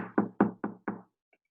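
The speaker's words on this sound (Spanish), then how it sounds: "7 días nos llegaban a tocar la puerta" Four firm, evenly spaced knocks on a door ring out close and clear, followed by silence.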